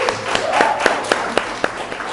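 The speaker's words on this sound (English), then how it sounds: "Guys, give them a round of applause." An audience at a business talk event applauds, sharp claps landing in an irregular rhythm, moderately loud and steady, with no talking over it.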